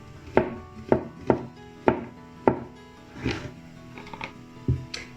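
Mushrooms are sliced with a knife on a chopping board, giving five crisp, evenly spaced cuts up close, followed by a few softer, irregular taps.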